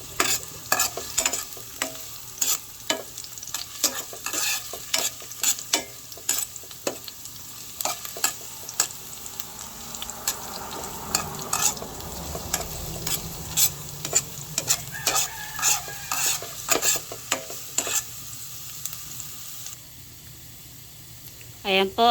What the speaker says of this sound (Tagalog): Pagsasabayin ko na pong ilagay itong bawang at sibuyas.